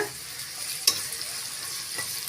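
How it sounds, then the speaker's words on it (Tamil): Onions with five slit green chillies sautéing in a pan, a steady close sizzle with one sharp scrape of a spoon partway through and soft stirring sounds, no talking. "வெங்காயம் நல்லா வதங்கி வரட்டுங்க கூடவே 5 பச்சை மிளகாய் லேசா கீறிட்டு சேர்த்துக்கோங்க"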